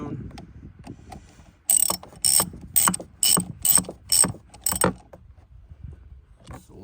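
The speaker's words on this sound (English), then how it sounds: "So I'm gonna go ahead and spin that nut on. Tighten it down." A ratchet tightens the nut on a car's auxiliary battery terminal in a Chrysler Pacifica, about seven quick bursts of clicking in a steady rhythm, close and clear between quieter handling noises.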